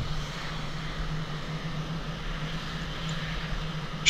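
A jet taxiing toward the runway in the Falcon 4 Allied Force flight simulator produces a steady, moderate engine hum with a constant low drone and even background rumble, unchanging and without speech.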